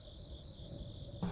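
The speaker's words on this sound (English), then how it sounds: "Is chirping sound from over here? Crickets, maybe?" Faint, continuous cricket chirping in a dark scene of The Darkside Detective, a thin steady trill that runs alone and cuts off near the end.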